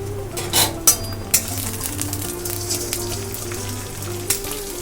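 Two eggs with a little salt are scrambled in a pan, with a soft steady sizzle and several sharp clinks of a utensil against the metal, close up with a constant low hum behind.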